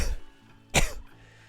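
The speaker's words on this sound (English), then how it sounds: "Yep, I'm still coughing." A man gives a single sharp, close cough after a moment of quiet, with faint game background sounds around it.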